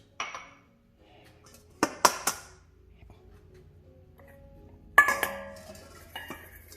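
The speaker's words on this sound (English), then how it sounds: "First, I'm going to take 2 egg yolks." Eggs are cracked and separated for a crab cake mixture, with a few sharp clinks and taps against a bowl and short bursts of handling noise between quiet gaps.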